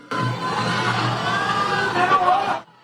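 A crowd at a People Power Party meeting boos and jeers with loud, continuous shouting. Voices overlap for a few seconds before the noise cuts off abruptly.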